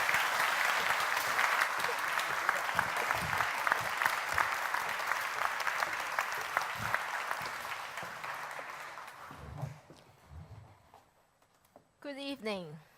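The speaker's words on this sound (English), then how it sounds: "please give a round of applause for Deng" Audience applause at the Cambridge Union debating society, a full hall clapping loudly and steadily for about nine seconds before thinning out and fading, followed by a brief murmur and a short spoken phrase near the end.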